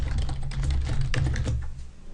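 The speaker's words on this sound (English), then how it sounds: "select the label and just type in your new text." Steady clicking of keys being typed on a computer keyboard, close and continuous for a couple of seconds with no voices.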